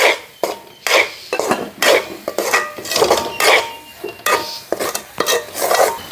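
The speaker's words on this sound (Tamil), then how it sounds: "ஓகே, இதை வந்து நாங்கள் வடிவாக கிண்டி எடுப்போம்." Coconut milk toffee being stirred in a pot, a loud, close run of rhythmic scraping and clanking strokes from a spoon against the metal, repeating roughly every half second with no voices.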